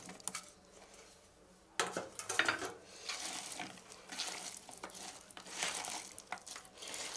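Cooked cauliflower is stirred into masala in a pan, giving soft clinks and scraping from the spoon along with a gentle sizzle, close and fairly quiet.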